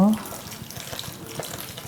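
Water poured onto Jiffy seed starting pellets in a seed-starting greenhouse tray, a soft, steady splashing trickle lasting under two seconds, close and fairly quiet.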